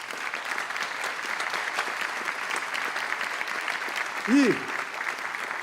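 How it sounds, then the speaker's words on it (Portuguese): At a solemn session honouring 150 years of Santos Dumont, a seated audience keeps up a steady, even round of applause throughout, with a brief louder tonal sound near the end. "Por favor, uma salva de palmas."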